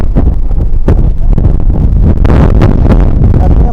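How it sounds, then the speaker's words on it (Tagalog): Strong seaside wind buffets the microphone in a steady, loud roar, with gusts surging throughout and faint bursts of voices underneath. "Ang lakas ng hangin, grabe oh."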